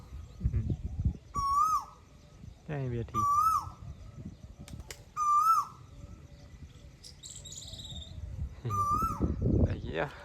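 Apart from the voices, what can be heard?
koel bird calling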